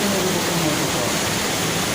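Water rushing steadily along the open channels of a water treatment clarifier, a dense, even wash of flowing noise that stays constant and close throughout.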